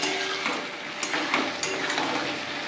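Potatoes and eggs fry in masala, a steady close sizzle broken by scraping stirs and light clinks of a spatula against the pan.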